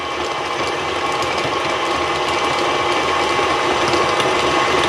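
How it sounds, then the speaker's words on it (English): Butter and powdered sugar are creamed together for holiday cookies, with a continuous, loud mechanical whirring and rattling that runs unbroken from start to finish. "we're gonna go ahead and cream in the powdered sugar with the butter now"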